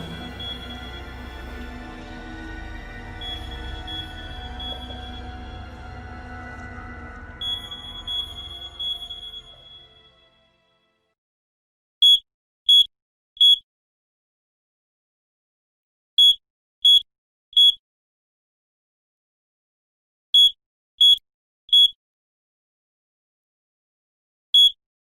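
Sharp electronic alarm beeps from the video game Dark Night with Poe and Munro, sounding in short triple bursts repeated four times after a stretch of busy music-like background ends, each burst clear against silence.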